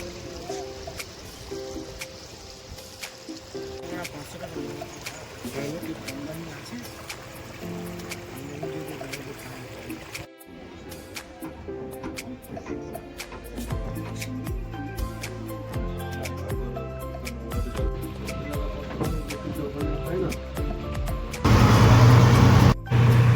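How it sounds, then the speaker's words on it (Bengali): A passenger launch pulls away from the jetty with a continuous engine rumble and the wash of moving water, and a louder rush of water at the end. "আমাদের লঞ্চ ফাইনালি ছেড়ে দিয়েছে।"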